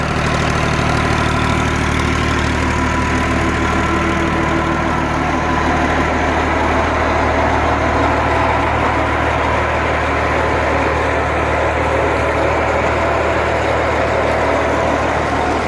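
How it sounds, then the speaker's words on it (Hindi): A tractor engine runs steadily and loudly up close, a constant rumbling drone that powers a pump sending water into village crop fields, with no pauses or changes in pace. "ये ट्रैक्टर की मदद से पानी लगाया जा रहा है।"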